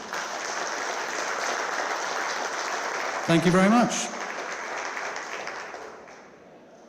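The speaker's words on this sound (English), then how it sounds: "Everyone, please give them a round of applause." An audience applauds panellists after a start-up panel session, steady clapping throughout that fades toward the end, with someone briefly speaking over it.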